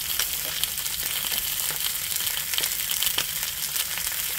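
Chicken thighs searing skin side down in a hot pan: a steady, dense crackling sizzle with scattered sharper pops, fairly quiet and close, with no talking.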